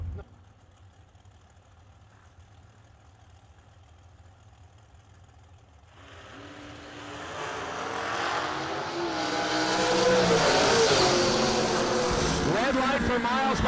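Carbon-fiber Spitzer-chassis dragsters at a drag strip's New Year Nationals meet, a low idle rumbling first and then a loud, broad engine roar building from about six seconds on as the cars launch and race, with an announcer talking over it.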